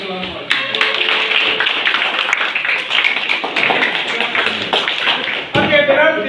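Classroom audience clapping for a student group after their presentation, a loud close burst of many hands that keeps up steadily before a brief dip and a renewed flurry near the end.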